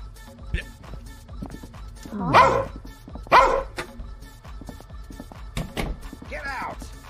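A dog barks at close range in a couple of loud bursts amid other noises, with people talking around it.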